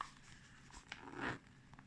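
A zipper pulled along a battery storage case for 199 cells, a quiet scraping run with a louder burst near the end, close up and alone with no talking.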